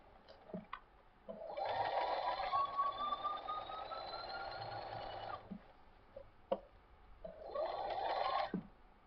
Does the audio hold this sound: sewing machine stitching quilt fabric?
yes